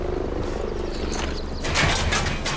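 A helicopter in the video game Ghost Recon Breakpoint gives a steady, throbbing low rotor rumble that swells louder and brighter in the last second.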